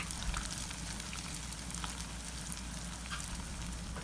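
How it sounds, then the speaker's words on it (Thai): Enoki mushrooms deep-frying in hot oil, giving a steady, dense crackling sizzle that holds evenly throughout with no voices. "พอทอดไปเรื่อยๆ นะคะ อีกด้านหนึ่งกรอบแล้วก็เหลืองสวย เราก็จะทำการกลับด้านค่ะ"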